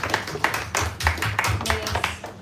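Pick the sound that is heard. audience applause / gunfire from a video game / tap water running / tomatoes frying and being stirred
audience applause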